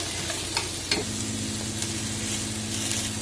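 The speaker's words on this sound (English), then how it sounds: "Saute for a minute or so, or until the aroma comes out." Onions and garlic sauté in a hot pan, a steady close sizzle with a few light clinks of a utensil stirring through.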